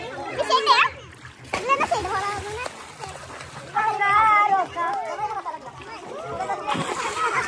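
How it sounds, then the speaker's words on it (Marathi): A phone falls into water at a farmhouse with a splash amid children's voices and lively chatter, with sloshing and outdoor noise throughout. "आता पाण्यात गेलता यो फोन."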